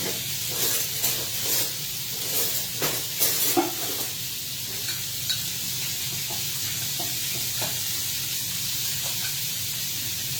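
Steady sizzling hiss of flap steak frying in a hot pan, with a few louder crackles and pops near the start before settling into an even sizzle.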